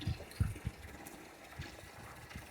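Distilled well water runs from a hose into a rear-mounted radiator cooling system on an S10, with soft gushing and a few low gurgling thumps near the start, then a quieter, steady flow.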